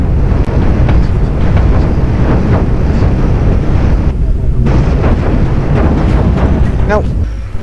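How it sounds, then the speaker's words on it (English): Rocket impacts pound a spaceship in the space combat game Cosmoteer, a dense, loud barrage of booming blasts and crackling explosions running continuously, with a brief lull midway before the battering resumes. "Here come the rockets."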